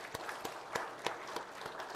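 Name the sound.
church congregation applauding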